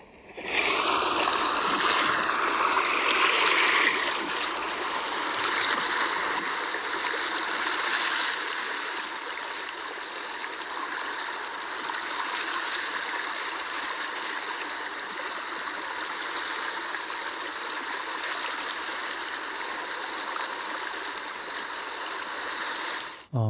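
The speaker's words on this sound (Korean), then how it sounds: "방금 전 제주도 바닷가 소리입니다" Water at the seashore on Jeju Island, Korea, heard as a steady, continuous rushing and trickling wash that stays fairly loud and even throughout, with no voices.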